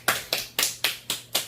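Hands clap six times in a steady, even rhythm, each clap sharp and close, with no talk.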